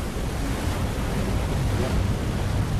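Steady storm wind and crashing ocean waves surround a U-boat at the surface in the Silent Hunter 3 video game, a loud and constant roar with no breaks and no talk.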